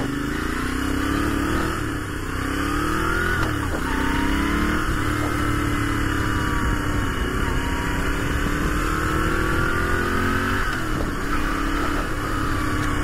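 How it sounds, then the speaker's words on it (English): A Moto Guzzi V7 Stornello motorcycle engine pulls through repeated gear rises, rising revs then drops every few seconds, loud and continuous as from a rider's position, with no talking. "Love the sound of the engine and the torquey character."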